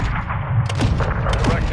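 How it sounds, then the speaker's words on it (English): Booming missile launches and explosions from a gunship killstreak in Call of Duty MW2 rumble in quick succession, mixed with a radio voice talking over the blasts. "Missile loaded. Clear to fire."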